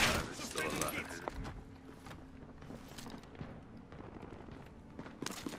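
Gunfire crackles in a video game, with scattered sharp shots that are loud at first and then grow quieter, mixed with footsteps while players talk over the action.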